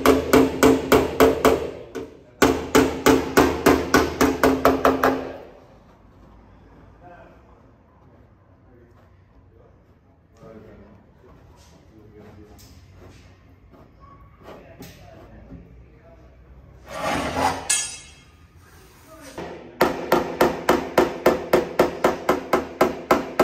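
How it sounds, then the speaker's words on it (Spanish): Hammer and dolly planishing a steel car body panel in a body shop: bursts of rapid, ringing metallic hammer blows at the start and end, with quieter handling and a brief voice in between. "Planchar con el aguantador y el martillo, acomodarla despacito."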